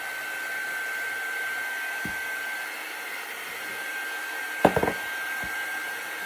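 A hair dryer runs steadily throughout, blowing to dry a layer of paint on a craft accessory tag, with a couple of brief knocks and handling clatters near the end.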